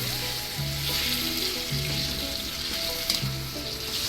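Chicken frying with salt in a karahi, street-style Karachi cholistani karahi, producing a loud, sustained sizzle close up, with occasional stirring scrapes and a sharp clink near the end.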